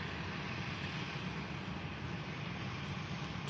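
A Boeing 737-800 airliner in Tui Blue livery at Faro airport produces a steady, fairly faint jet roar that holds constant throughout, heard from a distance with no talk.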